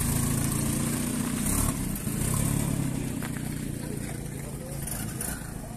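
A vintage EHP Matisse car engine runs as it pulls away, a loud rumbling mid-pitched drone that eases slightly toward the end, with people talking nearby.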